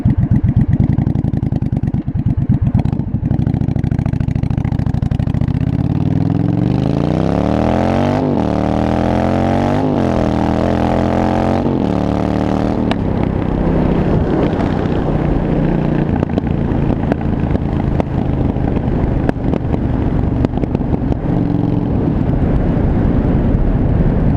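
Loud 1982 Yamaha Virago 920cc V-twin motorcycle racing through city streets, engine roaring continuously and close, revs climbing in several rising sweeps with gear changes before settling into a steady hard drone, heavy wind rush throughout.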